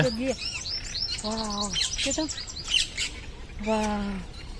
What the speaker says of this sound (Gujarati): અહીંયા મસ્ત મજાના મોટા મોટા બતક પણ છે મોટા મોટા પંખીડા પણ છે